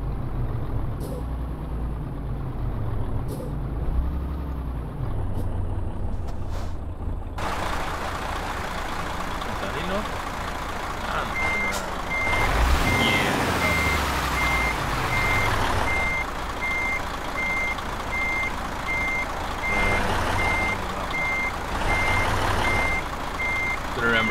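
A truck in Euro Truck Simulator 2 backing up, steady engine rumble with a hiss like air brakes and a regular reversing beep that comes in partway through and keeps pulsing, loud and close.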